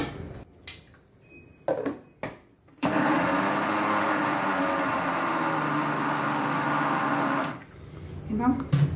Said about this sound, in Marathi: पाणी न टाकताच मिक्सरमध्ये फिरवायचं आहे। आता मी सगळी डाळ फिरवून घेते।